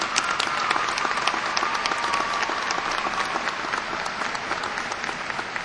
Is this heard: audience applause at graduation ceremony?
yes